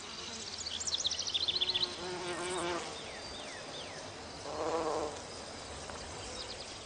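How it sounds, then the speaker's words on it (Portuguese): Carpenter bees buzz around garden flowers, their droning wingbeats rising and fading as they pass near the listener, with softer insect hums and faint chirps in the background. "os mamangais são, em todos os aspectos, os polinizadores mais eficientes do jardim, bem melhores que as abelhas comuns"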